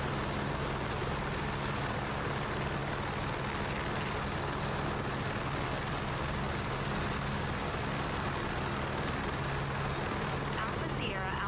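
Helicopter in Microsoft Flight Simulator 2024, flying over London near the London Eye, a constant loud rotor and engine drone with a steady low hum, unbroken for the whole stretch.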